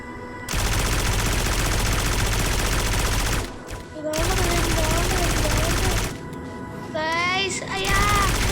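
Gunfire in the video game Aurorio comes as loud sustained bursts and rapid volleys with brief gaps, while a player talks over it.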